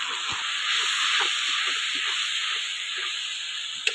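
Tomatoes and a spice mix fry in a hot pan for an egg curry, giving a continuous close sizzle and hiss with faint scattered pops and clinks, and no voices.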